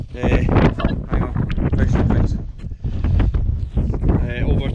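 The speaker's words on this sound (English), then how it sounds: "The wind's just so extreme" Extreme wind buffeting near a Munro summit on Glas Maol in the Scottish mountains, loud roaring gusts that rise and fall against the microphone in continuous waves.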